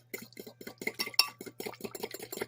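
A spoon stirs wet cake batter with vanilla extract in a mug for a microwave cinnamon roll mug cake, giving a rapid, steady run of light clinks and scrapes against the mug, close and fairly soft, with no talking.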